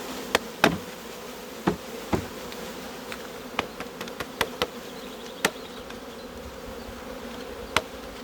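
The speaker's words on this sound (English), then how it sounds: "So all I'm gonna do now, dump all the bees into the box, put the frames back in, build it all back up." Honeybees from a package being shaken and dumped into a hive box, a steady close insect buzz running throughout with several sharp knocks and taps of the box scattered across it.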